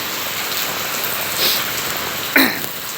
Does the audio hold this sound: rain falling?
yes